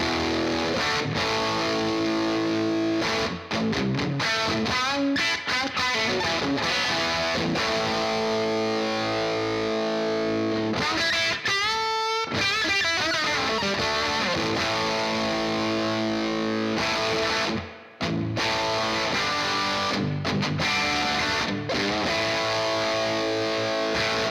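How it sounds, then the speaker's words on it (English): Electric guitar played through a JHS Bender fuzz pedal at its lowest gain setting, thick and sustained, with chords and riffs running continuously and a couple of brief pauses. "this is the red switch at the lowest gain level"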